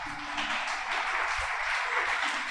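A church congregation applauds in a short, steady burst of many hands clapping together at moderate distance, with no talk over it.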